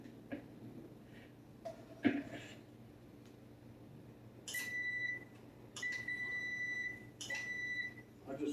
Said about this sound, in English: I just turned my timer on.